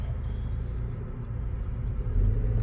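A car drives along a wide road during a driving lesson, its engine a steady low rumble that swells louder near the end as it accelerates, with no talking.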